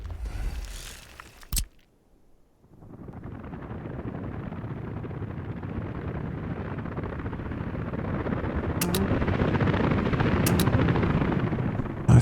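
Helicopters in the city-building game Workers & Resources: Soviet Republic give a continuous whirring rotor rumble that starts after a brief pause and swells steadily louder, with a few sharp clicks.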